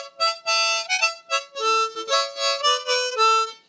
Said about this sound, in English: That's an A harmonica.